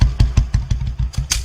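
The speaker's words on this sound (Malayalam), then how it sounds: "അതുകൊണ്ട് സാർ ബൈക്ക് ഒതുക്ക്" A motorcycle engine chugs in a quick, even rhythm of loud, close pulses as the bike slows to a stop and is pulled over.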